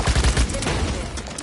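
Dense, rapid gunfire from a Ruckus loadout in the Rogue Company video game: overlapping shots in a continuous loud fusillade, close and heavy with no gaps.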